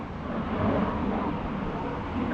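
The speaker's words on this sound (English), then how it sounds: "See the plane go over." An aircraft passes overhead above a Soviet-era monument in a forest, a low, broad rumble that holds at a fairly steady level for a couple of seconds with no speech over it.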